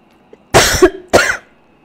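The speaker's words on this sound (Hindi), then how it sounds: "माफ़ी चाहती हूँ, खांसी आ गई बीच में।" Two sharp coughs in quick succession, close and loud, with a short pause between them and quiet before and after.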